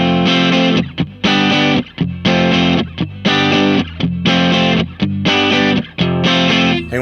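Electric guitar on the neck pickup, run through a PastFX Chorus Ensemble preamp, strums loud, saturated chords in a steady rhythm of repeated stabs, each cut off by short gaps, with no talking over it.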